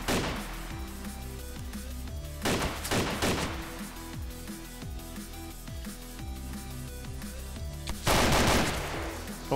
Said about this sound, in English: there's shots right beside me the whole time